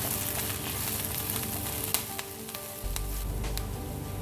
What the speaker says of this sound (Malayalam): നമുക്ക് ഇതിലോട്ട് കുറച്ച് കറിവേപ്പില ആഡ് ചെയ്ത് കൊടുക്കാം. നല്ലപോലെ ഒന്ന് മിക്സ് ചെയ്യാം.